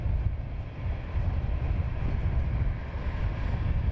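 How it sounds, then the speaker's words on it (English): EasyJet airliner taxiing at London Luton Airport, a steady low engine rumble and broadband roar holding evenly throughout at moderate distance, with no voices. "We have an EasyJet taxiing out."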